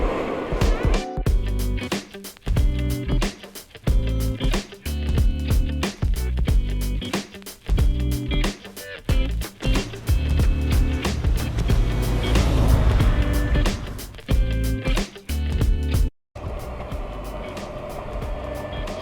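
A group of Can-Am Spyder three-wheeled motorcycles rides together on the road. Their engines drone loudly and closely with a fluctuating roar and wind noise, then cut off abruptly near the end.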